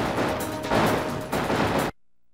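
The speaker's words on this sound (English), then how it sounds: "So now we're gonna have a whole bunch of different explosions occurring and all kinds of crap." Explosions and gunfire from a Sega Saturn video game form a dense, loud barrage of bursts and blasts, then cut off abruptly into silence.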